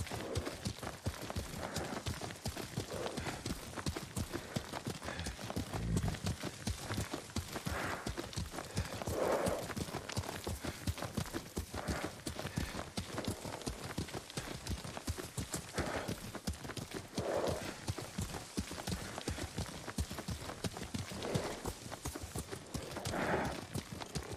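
Rapid, continuous clip-clop of video game horse hooves galloping at a steady rhythm for the whole stretch, fairly close, with occasional snorts and no voices.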